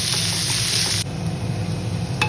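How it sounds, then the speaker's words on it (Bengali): Raw banana pieces fry in oil with nigella seeds, a dense, close sizzle that drops slightly in brightness partway through, with a faint scrape near the end. "কাঁচকলা সব একসাথে কালো জিরা ফোড়ন দিয়ে তেলে ভাজা হচ্ছে"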